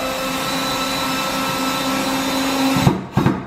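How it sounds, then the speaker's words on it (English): A power driver running steadily at close range as a board is screwed tight to a wall stud, a continuous whirring whine that ends with a couple of short bursts. "So by screwing it tight to the stud"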